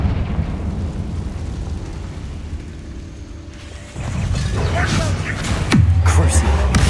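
A fiery Confringo blasting spell from the Hogwarts Legacy video game erupts midway as a rumbling boom, followed by a second deep, heavy burst near the end over a busy bed of game effects.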